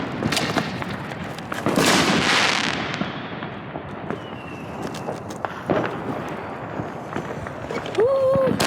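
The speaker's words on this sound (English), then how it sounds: "That's gunshots." Sharp outdoor bangs on New Year's, gunshots or firecrackers, crack at irregular intervals at moderate distance, mixed with a crackling burst, footsteps and people talking nearby.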